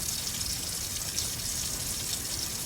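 Tap water runs steadily into a basin, a continuous even gush with no pauses and no voices.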